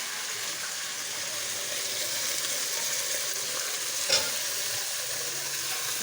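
Steady, close sizzling and frying of fenugreek and potato in a pan, with a constant hiss of spattering oil and one brief clatter partway through.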